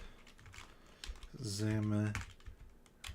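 Fingers type on a computer keyboard, giving quick scattered clicking taps, while a brief voiced sound rises in the middle.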